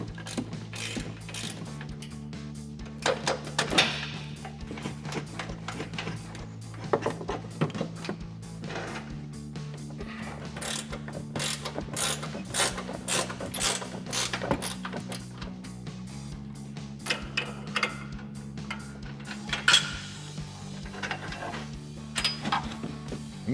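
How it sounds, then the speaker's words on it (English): An 18mm ratchet wrench loosens the upper control arm bolts on a 2012-2018 RAM 1500 during a suspension lift install, giving long runs of close, rapid clicking over a low steady hum. "remove the 2 bolts that hold our control arm in at the top using our 18mm"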